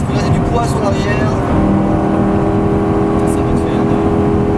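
A Lamborghini Gallardo runs at light throttle during a sprint-racing driving course at the Folembray circuit, a steady close engine drone heard from inside the car with little change in pitch.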